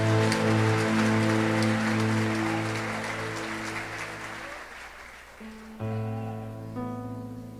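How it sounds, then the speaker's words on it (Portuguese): A church congregation applauds Jesus with a thick, sustained roar of clapping under a held organ or keyboard chord, the applause gradually dying away while the sustained music carries on and shifts to a new chord. "dando a Jesus uma linda salva de palmas, porque Ele é tremendo"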